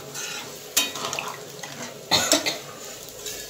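Water poured into a pan of frying spice masala for a fish curry with winter vegetables sets off two sharp bursts of loud hissing sizzle over a softer crackle; no voices.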